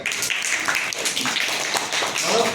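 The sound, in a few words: children clapping in classroom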